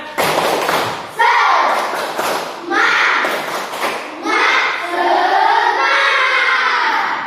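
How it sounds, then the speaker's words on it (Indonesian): Classroom of schoolchildren performing the Indonesian 'tepuk semangat' rhythmic clapping chant, sharp patterned claps and thumps mixed with children's voices, loud and close throughout. "sebelum kita memulai pelajaran kita tepuk semangat dulu"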